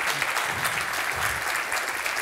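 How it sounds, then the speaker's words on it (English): Audience applause after a startup demo pitch at the Gateway 2023 demo session, a full, steady roar of many clapping hands from a large room, with low crowd rumble beneath and no speaking. "A round of applause."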